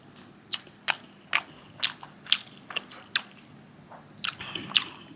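Close, crisp crunching bites and chewing of fried delivery chicken eaten without gravy, about a dozen sharp crunches in an uneven rhythm, loud against a quiet room with no talking.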